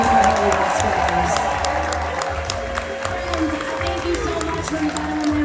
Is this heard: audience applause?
yes